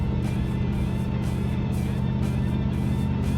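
A Chevrolet Corvette L36 convertible engine drones through its exhaust in a steady, mellow low rumble, heard close up from inside the moving car with a constant pulsing beat.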